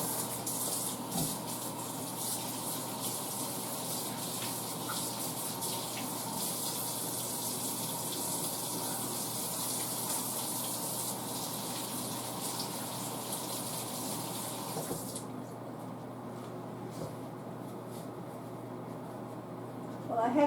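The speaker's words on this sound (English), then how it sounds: "Let me wash my hands." A kitchen faucet runs steadily while hands are washed, a continuous close hiss of water that thins out partway through and then carries on more quietly to the end.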